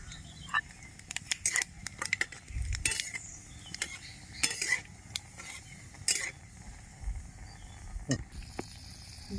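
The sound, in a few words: dry red chilli and nigella seeds sizzling in hot oil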